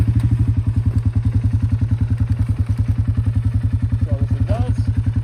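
A Polaris Sportsman 570 ATV engine thumps in a fast, even beat at close range, loud and steady throughout in a snowy setting, with brief faint squeaks near the end.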